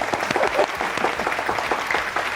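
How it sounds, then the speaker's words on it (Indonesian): Audience applause for a child's drawing at a contest in Singapore, a dense, steady patter of many hands clapping throughout, fairly close and loud with no talk over it. "Tepuk tangan dulu dong."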